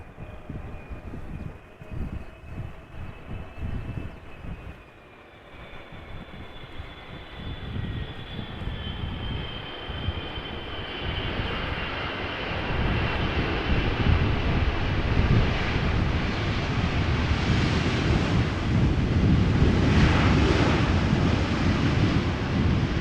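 An airliner lands at Amsterdam Schiphol Airport in a crosswind, its engine roar swelling from a distant whine to a loud, broad rumble that holds strong through the end, with wind buffeting the recording.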